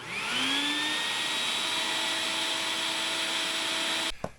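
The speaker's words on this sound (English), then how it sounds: "the vacuum sucked it so dry we got 0 antifreeze" A shop vacuum roars loudly and steadily, its whine rising as it spins up, while it sucks antifreeze out of a car's coolant hose, running alone for about four seconds before cutting off abruptly.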